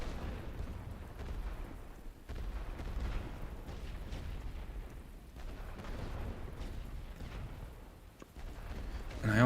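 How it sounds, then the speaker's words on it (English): Distant, rumbling artillery barrage booms roll in a low, continuous wash in a Great War Western Front video game, fairly faint with occasional stronger thumps. "Check coordinates for barrage. Start the barrage."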